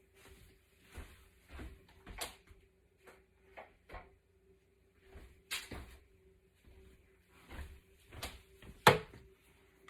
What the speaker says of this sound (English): Okay, so open up your lid.